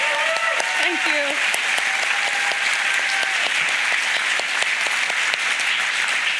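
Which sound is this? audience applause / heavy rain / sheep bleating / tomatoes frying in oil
audience applause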